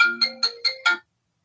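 A phone ringtone goes off during a city human rights commission meeting: a short melodic burst of five quick electronic notes, clear and alone, then silence.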